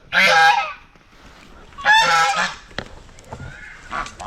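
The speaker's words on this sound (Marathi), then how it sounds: "बदक आलं माझ्याकडं" Two loud, nasal honking calls from a duck, close by, separated by a short pause, followed by fainter rustling.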